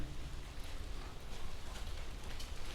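Steady rain falling in a concrete urban setting, a dense even hiss of drops on hard surfaces with a low rumbling undertone, continuous and moderately quiet, no voices.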